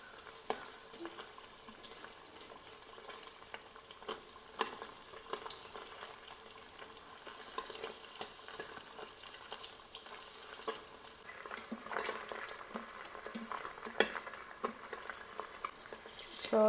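Paneer pieces fry in a pan with a constant soft sizzle, dotted with light spatula taps and scrapes as each piece is flipped over one at a time, heard up close and fairly quiet.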